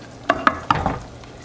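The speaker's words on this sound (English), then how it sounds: "And another ladleful of stock. And give it a good stir." Risotto being stirred after a ladle of stock is poured in: a few quick wet scrapes and clacks of a spoon against the pan, close and clear, over a soft sizzle.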